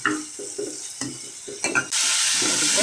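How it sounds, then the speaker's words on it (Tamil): Tomatoes go into a pan with softened onions, starting as a scraping stir with light sizzling and a few knocks, then shifting abruptly to a loud, steady hiss of frying. "வெங்காயம் வதங்கிட்டு தக்காளி போட்டுக்கிறோம்"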